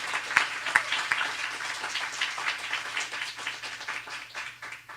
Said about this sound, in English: can we please give another round of applause to Alvin, Denise, Sharon, and Mom.